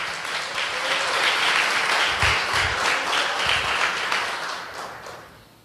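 A church congregation breaks into sustained applause, a dense wash of clapping that stays fairly loud and even from start to finish, with a few heavier low thumps near the middle.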